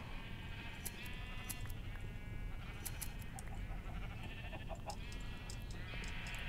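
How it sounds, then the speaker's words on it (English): Several Minecraft sheep bleat in quiet, overlapping bursts over a low background hum, some calls higher and thinner like lambs, faint and fairly distant throughout. "At least I think all the baby sheep grown up."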